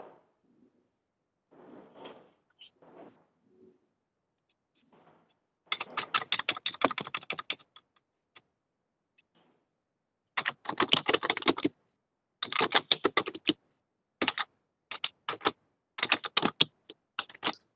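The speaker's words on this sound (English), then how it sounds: "Whoever's typing, can you mute" Keyboard typing picked up on an open microphone during a city council meeting, sounding as irregular bursts of quick clicking keystrokes with short pauses between, fairly close and with no talk over it.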